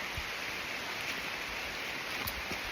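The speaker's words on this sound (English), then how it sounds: "It's pouring rain" Heavy rain pours through a forest canopy on a trail campsite, a dense, steady hiss of drops close around with occasional louder drips, and no voices.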